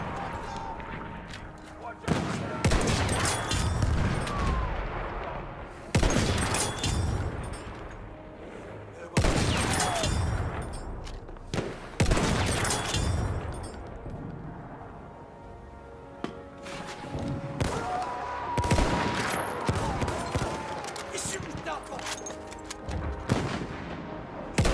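Sniper rifle gunfire in the video game Battlefield 1, several loud sharp shots spaced seconds apart with echoing tails, over continuous game ambience and a speaking voice.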